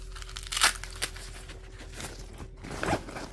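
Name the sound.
zipper on a ski bag being opened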